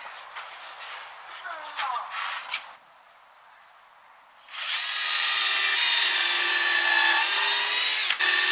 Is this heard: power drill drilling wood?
yes